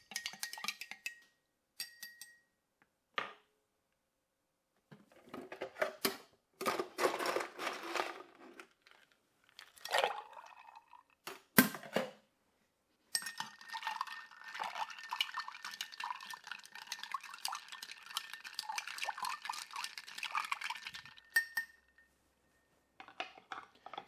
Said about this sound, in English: Give this a nice little stir.